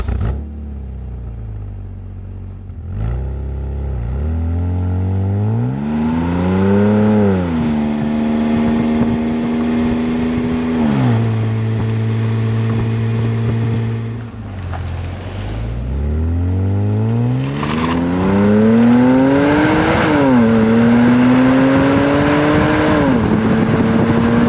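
A BMW E90 with the N52 straight-six and an Active Autowerke performance muffler, heard from inside the cabin on a drive: a loud, droning exhaust note rising and falling through repeated revs and gear changes, no talk.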